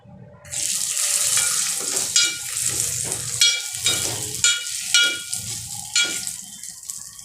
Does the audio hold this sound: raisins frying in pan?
yes